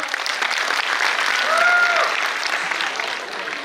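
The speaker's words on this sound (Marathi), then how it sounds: "मेट्रो टू मेट्रो या धमाकेदार डान्ससाठी जोरदार टाळ्या." An audience at a school annual function breaks into dense, sustained applause after a lively dance performance, with a brief whistle rising over the steady clapping.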